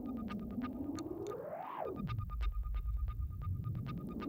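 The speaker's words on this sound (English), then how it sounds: "Because this reverb is amazing." A synthesizer plays through a frozen reverb effect in a Berlin studio, a sustained tone that sweeps slowly up and then falls away under rhythmic ticking pulses and a low throbbing hum.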